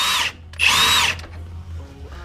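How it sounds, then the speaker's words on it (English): An impact wrench rattles in two loud bursts while loosening a rusted 17mm nut during a Koni Yellow shock install on a Scion FR-S, with a brief gap between bursts and a quieter mechanical hum trailing after. "or you can use an impact. I'm using an impact."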